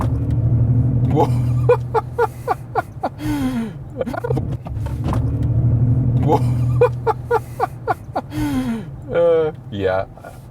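A Mercedes EQS electric car accelerating in sports mode with its synthetic drive sound: a steady low electric hum and rumble running under animated talking and exclamations from people inside the cabin.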